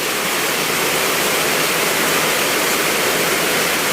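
Steady, heavy roar of torrential rain and floodwater rushing through houses, constant and loud throughout without any break.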